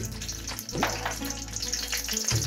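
Almonds and cashews fry in hot oil for Kashmiri pulao, a close, steady sizzle with brief crackles throughout.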